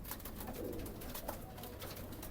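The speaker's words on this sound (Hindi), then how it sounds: "ये कमकर कबूतर है।" Kamagar pigeons coo softly and repeatedly in a pigeon setup, faint and somewhat distant over a steady background hiss.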